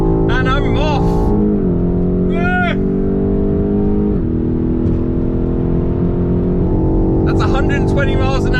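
A BMW X5M accelerating hard in a drag race, a loud steady engine drone with gear changes and rising pitch, heard from inside the car while someone talks over it.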